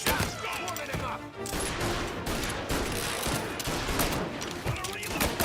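Dense rapid gunfire in the Mafia video game, loud and continuous bursts crackling throughout with shouted voices in the mix.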